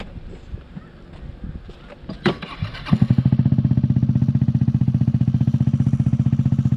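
A mini bike engine sputters and clatters as it is started, then settles into a loud, rapid, pulsing idle-to-rev rhythm up close, with faint voices and wind in the background.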